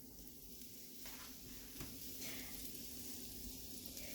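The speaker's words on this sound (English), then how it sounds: "Now, we put the dandelions in the pan, and it's already hot." Dandelions fry in a hot cast iron pan with a steady, close sizzle and hiss that runs throughout, broken by a couple of faint stirring scrapes and no talking.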